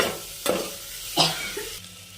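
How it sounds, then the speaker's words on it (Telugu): Chopped tomatoes sizzle in hot oil in a pan for Tamil Nadu-style kushka while a spoon stirs them, a steady frying hiss broken by two sharp scraping strokes, close up with no voices. "తర్వాత టమాటా వేయాలి, బాగా కలబెట్టాలి."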